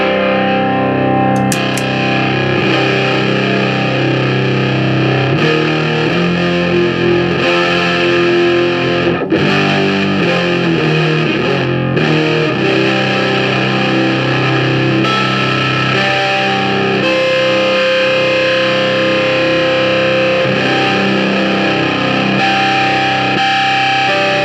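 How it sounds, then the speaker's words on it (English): Electric guitar driven through a Sunn Model T preamp pedal at full range, producing a loud, thick, distorted bass-heavy drone that sustains steadily throughout with no talking. "Now we seem to be getting closer to that drone sound, as it really is bass heavy."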